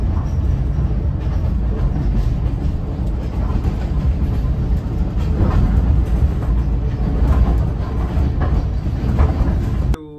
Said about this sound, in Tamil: இந்த ட்ரெயின் வந்து கண்டிலேருந்து வெளிக்கிடுது.